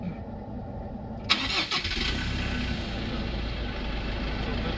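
A car engine is started with the clutch pressed: a brief starter crank, then the engine catches and settles into a steady, close idle that runs to the end.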